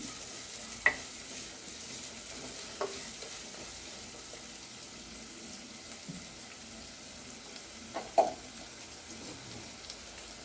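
Chopped onions sautéed in a clay pot over a village stove, a soft steady sizzle broken by occasional spoon scrapes and a couple of louder knocks near the end, no talking.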